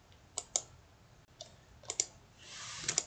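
Several sharp computer mouse clicks, made while uploading a design file on a computer, come in small pairs and single taps, near and fairly quiet, with a soft hiss building toward the end and no talking.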